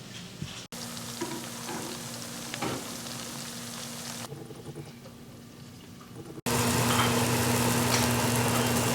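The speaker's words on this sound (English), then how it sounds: "cornmeal and straight into the grease" Cornmeal-coated catfish frying in hot grease, a steady soft sizzle that drops back midway and then swells louder near the end, with no talk over it.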